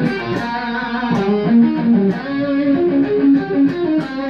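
A distorted electric guitar plays a melodic lead lick from a 1992 song. The phrase is loud, sustained and continuous, with no talking over it.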